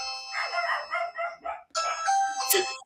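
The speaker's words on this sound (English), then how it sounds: "I forgot that the ring doorbell's in my son's bedroom." A Ring doorbell chime sounds indoors, a bright two-part melodic tone phrase heard clearly and close, ringing out in short sequences with brief pauses between.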